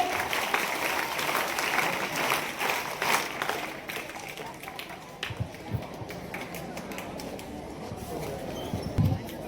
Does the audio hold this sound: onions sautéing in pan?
no